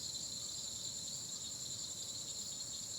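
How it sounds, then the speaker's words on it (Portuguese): At night beside a lagoon in Apodi, crickets chirp in a steady, continuous high drone. The sound is faint and even, with nothing else standing out. "só tem os grilos cantando, ó."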